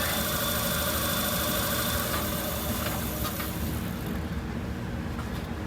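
The generator of a 1953 Dodge B4B truck runs as a motor with a loud, steady, close drone and vibration, easing off slightly toward the end, with no voices.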